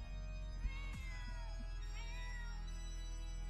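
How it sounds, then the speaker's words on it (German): Cats meow in The Sims 4 life-simulation game, with a few drawn-out, whiny cries heard over steady background game music. "Warum jammern die Katzen eigentlich?"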